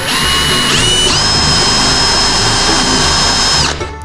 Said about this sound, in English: Put my drill bit right on top of it.